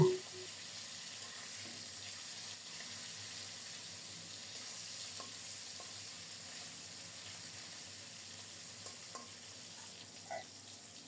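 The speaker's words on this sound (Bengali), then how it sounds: "যেহেতু ছোট মাছ তাই একটু ভেজে নিচ্ছি" Small fish pieces fry in hot oil, producing a faint, even sizzle that continues for about eleven seconds, with a few soft clicks and taps from the pan.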